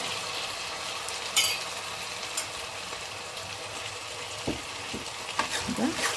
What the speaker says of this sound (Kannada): ಆನಿಯನ್ ಅರ್ಧ ಬೆಂದಾಗ ಇದನ್ನು ಸೇರಿಸ್ಕೊಳ್ಳಿ ಅದರಲ್ಲೇ ಫ್ರೈ ಆಗಬೇಕು